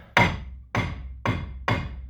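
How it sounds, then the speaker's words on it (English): Four heavy metallic hammer blows strike a Ford Galaxy brake disc at a steady, slow pace, each ringing briefly before the next, close and loud with no voices. "I'm going to take a hammer"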